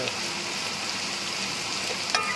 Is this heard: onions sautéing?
yes